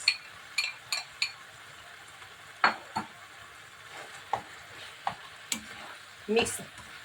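Sliced, skinned eggplant is stirred in a frying pan with a utensil, giving several sharp scrapes and clinks against the pan over a faint sizzle, spaced irregularly and fairly quiet.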